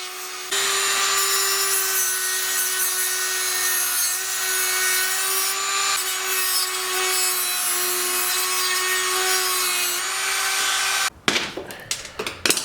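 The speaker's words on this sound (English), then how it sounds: "I'm just going to Dremel this link and I'm going to pop it loose" A Dremel rotary tool cuts into a link of a dirt bike chain with a loud, sustained high-pitched whine and grind lasting about ten seconds. It ends abruptly in a few clattering metallic knocks.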